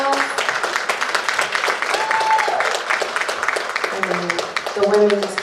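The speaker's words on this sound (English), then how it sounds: "Let's give her a big round of applause." Audience applause at the 2019 Mrs. USA Earth pageant, a steady crowd clapping with a few distinct individual claps, while voices and cheering rise over it.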